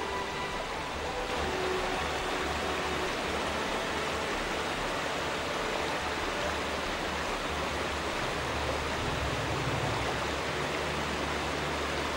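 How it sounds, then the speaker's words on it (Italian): Mountain streams and torrents near Auronzo in the Dolomites rush and gurgle in a steady, full broadband wash of water that stays constant and fairly loud throughout, with no voices. "Innumerevoli ruscelli e torrenti gorgoglianti."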